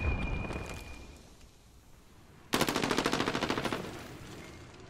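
Video-game gunfire: a brief burst early on, then after a quiet stretch a loud sustained rapid automatic volley with evenly spaced shots, close and dominant, fading slightly at the end.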